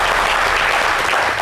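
Studio audience applauding on a television variety show set, a dense, loud, steady burst of clapping heard alone for a moment.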